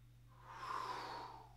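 A slow inhalation through the nose while rising from a forward swoop stretch exercise, a soft, close breath swelling and fading over steady low background hum.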